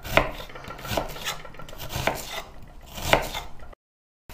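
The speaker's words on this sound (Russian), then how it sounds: "Показываю, как резать лук, да." Knife chopping an onion on a cutting board, four distinct sharp thunks spaced about a second apart, close and clear with no talking, ending in silence.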